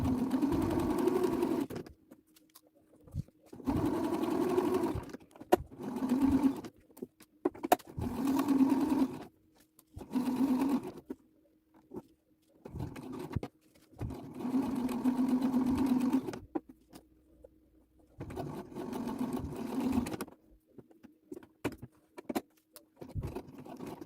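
A sewing machine stitches a reinforcing triangle and back tack at a suit pocket corner, running in repeated steady bursts of several seconds with brief quiet pauses between them.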